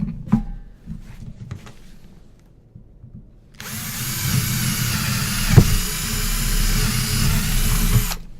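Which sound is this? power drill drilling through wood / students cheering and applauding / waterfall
power drill drilling through wood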